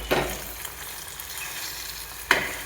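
Eggs fry in a pan with a steady, close sizzle, broken by two brief louder scrapes or stirs near the start and end, with no talking.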